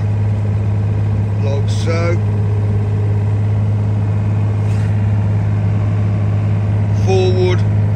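A Yanmar ViO33 three-ton mini excavator's diesel engine runs at full revs with a loud, steady, unchanging drone. Someone speaks briefly over it.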